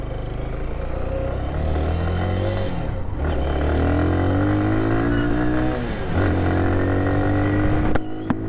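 A 2022 Lifan KPR 200 motorcycle engine running close by, a loud, steady hum with rises and falls in pitch as the revs shift, and a brief sharp knock near the end.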